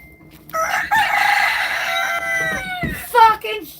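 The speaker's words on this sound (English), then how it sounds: "Fucking shut the fuck up, chickens!" Chickens and a rooster cluck loudly and close, then a long cock-a-doodle-doo crow rings out, ending in a burst of agitated clucking.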